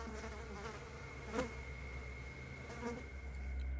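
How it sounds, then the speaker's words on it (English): Flies buzzing around something in found footage of the Backrooms: a faint, continuous droning hum with a couple of louder passes as a fly comes near, no talk. "You can hear the flies buzzing around it."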